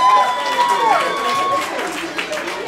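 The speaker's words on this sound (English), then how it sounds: "Clap for that right there." A crowd at a birthday party claps and applauds, a steady patter of hands mixed with music and voices, with a tonal line over it that rises and falls.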